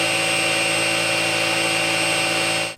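A Dreame Z10 stick vacuum runs its motor on max power, giving a loud, steady, high-pitched whine with strong tonal layers that holds constant and then cuts off abruptly at the end.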